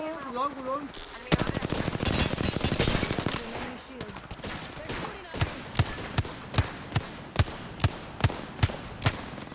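Rapid automatic gunfire in the Apex Legends video game, with a dense burst of shots followed by a regular series of single loud cracks, preceded by a short game sound and with a voice talking at moments.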